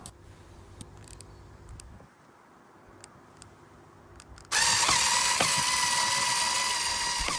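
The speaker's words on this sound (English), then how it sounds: "So drill your pilot holes. 4 on each side of the rear panel, screwing those into the rear support posts." Quiet handling clicks give way to a loud, sustained whir as a power drill drives screws into the rear support posts of an eDecks Atlas gazebo, continuing steadily to the end.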